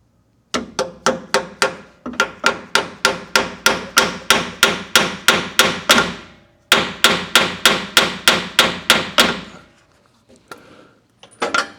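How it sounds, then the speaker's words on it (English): A hammer strikes over and over on a 2006 Chevrolet Colorado rear differential in a steady, quick rhythm, each blow loud and ringing briefly, with one short pause before the pounding resumes. "That hammer again."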